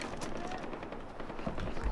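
Gunfire in the video game Far Cry 4, played co-op, sounds as rapid repeated shots that form a dense, continuous crackle of moderate loudness across the whole stretch.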